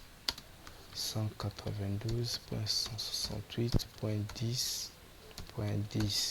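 A computer keyboard is typed on to enter a ping command while configuring a Cisco router, giving scattered close key clicks between and under someone speaking French.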